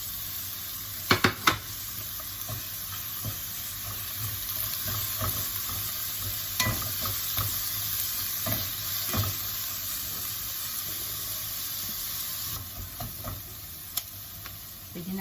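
Tofu frying in a wok, a steady background sizzle broken by scattered scraping and clacking stirs and a few sharp knocks near the start, with no talking.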